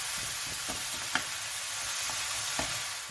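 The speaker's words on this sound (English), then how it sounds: "we're going to put 500 grams of ground beef. I'm just going to fry that now" 500 grams of ground beef frying in a pan, a dense continuous sizzle with occasional clinks and stirring knocks, close and steady with no speech.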